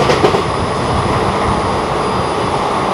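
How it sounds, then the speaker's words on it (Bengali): The 12311 Netaji Express running at good speed, heard from inside an AC coach as a loud, continuous rumbling roar of wheels on rails with a steady high whine and no talking. "বেশ ভালো স্পিডেই আমাদের ট্রেন চলা শুরু হয়ে গেছে।"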